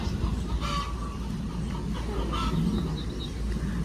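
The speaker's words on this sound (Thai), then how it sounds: "ไก่ขันไก่ร้องเพราะว่าไข่แล้วค่ะ" Hens in a home vegetable garden cluck faintly and intermittently over a continuous, fairly loud background wash, with no speech.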